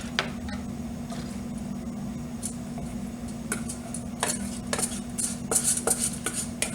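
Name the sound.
ingredients scraped from small bowl into large bowl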